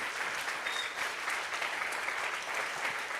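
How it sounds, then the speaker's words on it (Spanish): Church congregation applauding the Lord during a worship service, a steady wash of many hands clapping at moderate distance, continuous and even throughout with no talk over it. "applause to the Lord."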